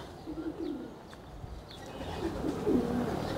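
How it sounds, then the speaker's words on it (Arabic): Pigeons of a long-bodied breed cooing in a loft, soft low throaty coos repeating in short phrases, nearby and moderately quiet, with faint rustling around them. "ها هو الحمام"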